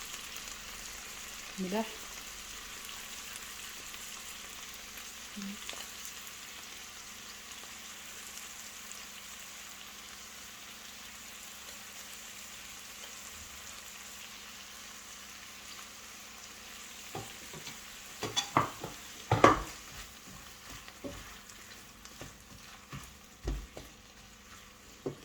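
Garlic and spices sizzle and fry in a pan while cooking chicken pasta, a quiet steady sizzle with a few louder stirring clatters toward the end and a brief voice speaking early on.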